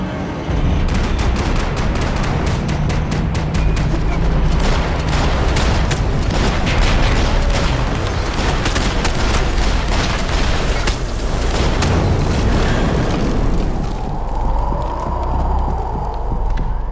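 Gunfire fills a firefight in the video game Max Payne 3. Rapid, loud shots come in dense bursts for most of the clip over a rumbling game soundscape, then ease off near the end.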